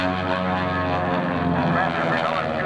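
A propeller airplane with several engines flies at the 2004 AirPower Over Hampton Roads air show. Its steady, loud droning engine roar holds throughout, with a voice talking over it.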